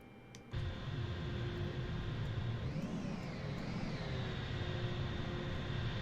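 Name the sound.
aircraft auxiliary power unit (APU) spooling up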